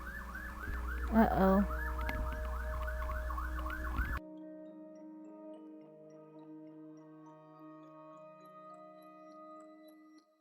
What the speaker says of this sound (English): Sirens, they're killing me.